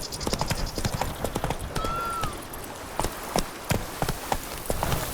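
Horse hooves clip-clop in a steady rhythm while riding in The Witcher 3, close and clear, with a short whinny-like sound midway and faint ambient game noise.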